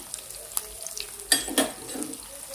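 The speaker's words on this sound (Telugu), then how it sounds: "ఇలా వేగేటప్పుడు ఇందులోనే నేను కొన్ని మసాలాలు వేసుకుంటున్నానండి" Whole spices (cardamom, cinnamon, cloves and shahi jeera) fry with dried coconut in a pan for masala brinjal, giving faint, brief crackles and scraping stirs.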